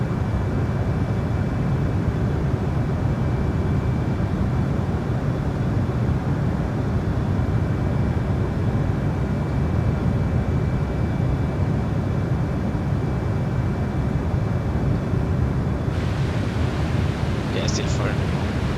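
Steady, loud broadband roar fills the cabin of a Norse Atlantic airliner on a flight from Cape Town to Antarctica, an unbroken engine and airflow rush that continues evenly throughout with no voices.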